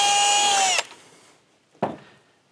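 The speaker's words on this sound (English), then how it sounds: "Again, you have to drill a pilot hole for this one." A power drill drills a pilot hole into a wall for a plastic wall anchor, whining loudly and steadily for under a second, then stops; a short bump and a fading rattle follow.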